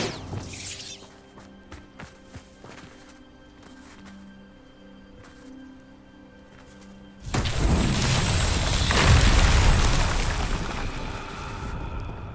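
A Bombarda spell explodes in Hogwarts Legacy, a sudden loud blast with crashing debris and a rumbling roar that lingers for several seconds after a quiet stretch of faint ambient ticks.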